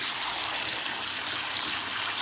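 Water pouring steadily into a bowl for instant ramen, a loud, continuous hissing gush close by with no break and no talking.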